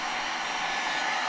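Steady, loud rushing hiss of a hot-air blower aimed at a garden hose to soften it during a leak repair, continuous and unbroken throughout.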